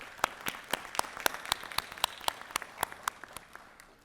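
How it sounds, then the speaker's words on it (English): At a university commencement, an audience gives a round of applause for an ambassador, with sharp, rhythmic claps standing out clearly over a softer bed of scattered clapping, moderately loud and fairly close. "Please join me in a final round of applause for Ambassador Sasahara"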